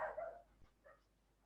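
A neighbor's dog gives a short muffled bark followed by a couple of fainter yips, heard from a distance in an otherwise quiet setting.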